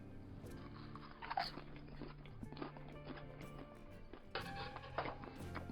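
Homemade camp popcorn being eaten, with soft irregular crunches and bites up close at a quiet level, several sharper crunch bursts scattered through the chewing.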